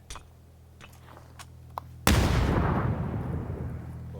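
Bomb explosion in PUBG: a few faint sharp pops, then a sudden loud blast with a long rumbling tail that slowly fades, no talk.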